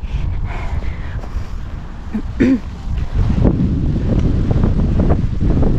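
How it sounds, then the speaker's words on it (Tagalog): Steady low rumbling buffets of wind hitting the microphone, continuous and fairly loud throughout, with a brief faint tonal sound partway through. "Mahangin."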